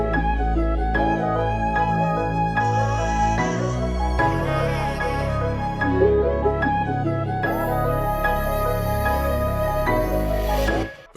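Hip-hop loop with a melody over a gliding legato Reese bass synth from Anna 2, EQ trimming the bass highs, and drums. Dense, steady and loud with no talking.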